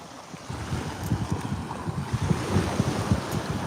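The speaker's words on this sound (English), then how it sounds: "so hopefully the waves are the prominent sound you're hearing." Steady ocean surf rolls and washes continuously, with repeated low swells and some wind buffeting the microphone; no voices.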